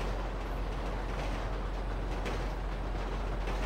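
Train ride in a video game, a steady, even rolling rumble with faint rail clatter that holds at one level throughout and has no voices over it.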